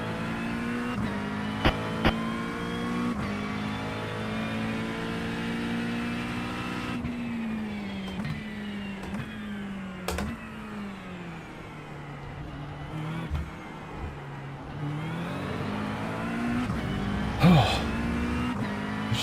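Race car engine in the iRacing sim, a steady loud harmonic drone that holds its pitch, dips and shifts through gear changes, with occasional brief clicks and a burst near the end.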